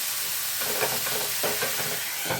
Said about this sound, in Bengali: এই পর্যায়ে এখানে এর মধ্যে আমি জল দিয়ে দেবো